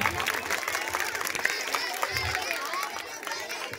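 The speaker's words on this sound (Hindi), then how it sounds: "इनके लिए तालियां" An audience at a primary school annual day function applauds with a dense, continuous clapping that fills the room. Crowd chatter runs under the clapping.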